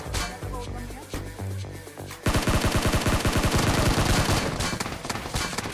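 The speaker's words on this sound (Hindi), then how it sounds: "और तभी एक बंदा मुझको शॉट लेता है" Rapid automatic gunfire in PUBG on the Erangel map, a sustained burst of dense, loud shots after a quieter stretch of game sounds, with a voice talking over it.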